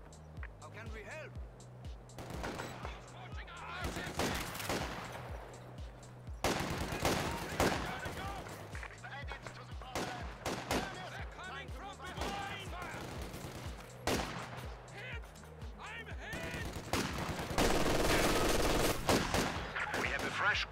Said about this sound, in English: Grenadiers are firing.